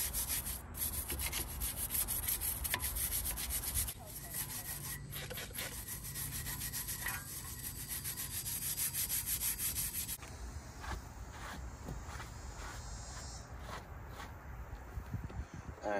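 Brake calipers on a 2020 Honda Accord are scrubbed by hand with quick, repeated rasping strokes, close and continuous for the whole stretch, softening slightly toward the end.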